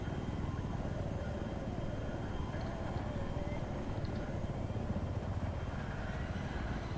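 An attack helicopter in the video game Battlefield 3 drones on with a steady, dense rotor and engine roar throughout, while players talk over it.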